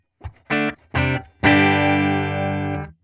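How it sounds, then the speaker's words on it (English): Electric guitar through a cranked Fender-style amp with a little room reverb plays two short distorted chord stabs and then one sustained chord that rings for about a second and a half, close and loud, with no talk. "And then I have a little bit of room reverb on it"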